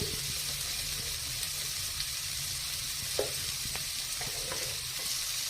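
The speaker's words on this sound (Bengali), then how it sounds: "গাজরের টুকরোগুলো আমি দিয়ে দিলাম। দিয়ে ভালো করে নাড়াচাড়া করতে থাকবো।" Carrot pieces stirred as they fry in a pan, a steady sizzle running throughout with a few faint scrapes and taps of the utensil, close by and without speech.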